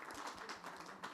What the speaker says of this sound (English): Maybe we can give them a last round of applause.